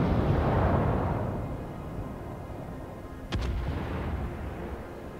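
Naval gunfire in the World of Warships video game: a heavy booming salvo that rumbles and fades, then a second sharp crack of fire followed by a lingering roar.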